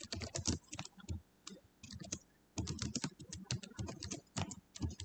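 Rapid clicking of keys on a TI graphing calculator while variables are entered, irregular bursts of close, crisp taps with short pauses between runs.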